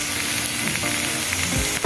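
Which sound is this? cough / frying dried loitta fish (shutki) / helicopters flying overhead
frying dried loitta fish (shutki)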